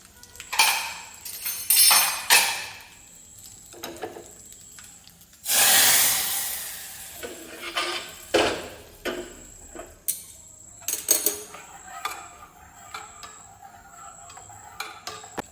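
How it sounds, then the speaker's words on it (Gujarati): Gujarati dal is tempered in a pan with garam masala and cloves: light clinks and taps of utensils, then a sudden loud sizzling burst, followed by scattered clicks and knocks. "હવે આપણે એમાં દાળનો વઘાર કરી નાખશું"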